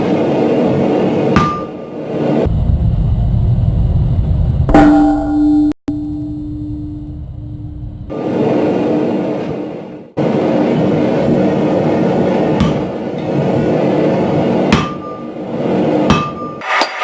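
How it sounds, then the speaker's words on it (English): Heavy hammer blows pound scrap Damascus steel during forge welding, struck in a steady pattern across the billet; loud, ringing metallic impacts come in repeated bursts with short pauses between runs, and no one speaks. "when we were forge welding, what we were doing was, hitting in a pattern along the surface"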